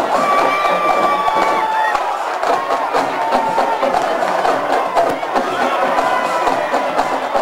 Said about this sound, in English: The yelling you're hearing are the Kingston or the North Kitsap cheerleaders throwing little purple footballs into the crowd